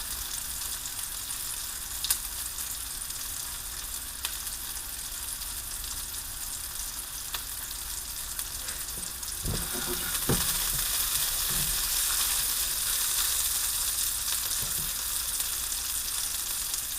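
Ingredients for wedding soup sizzling steadily in a pan, with a soft scrape of a rubber spatula partway through and the frying growing a little louder afterward, with no talk.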